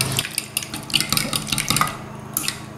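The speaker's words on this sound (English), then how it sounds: "Okay, so we'll give this all a quick mix and go on to the next step." Cake batter with vanilla is given a quick stir in a bowl, with rapid clinking and scraping of a utensil against the bowl in a busy, close rhythm that eases off briefly before one last burst.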